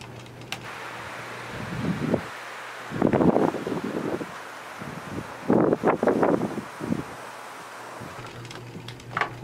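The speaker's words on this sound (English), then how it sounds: "but it's really windy now." Strong wind gusts outdoors beside a hunting tent during deer season, rising in loud buffeting bursts against the microphone between calmer, steady rushing stretches.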